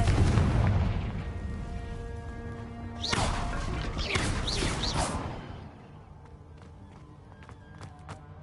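Confringo blasting spell going off in a video game: a sharp crashing blast with a rumbling explosive burst, loud for a couple of seconds, then fading into quieter clicks and faint effects.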